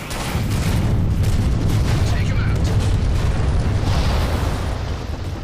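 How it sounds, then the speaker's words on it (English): Airstrike explosions rumble in the Halo Spartan Ops video game, a dense, sustained roar of heavy booms and blasts lasting several seconds before easing off. "So the airstrike just kind of fell on"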